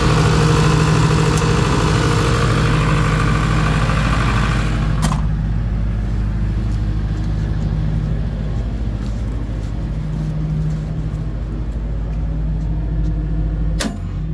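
A generator engine starts and settles into a steady, loud running drone, with a couple of sharp clicks partway through and near the end, and no talk over it.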